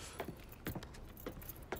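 Car keys jangle in Mafia III, several light metallic clinks scattered across the moment, fairly close with no talking.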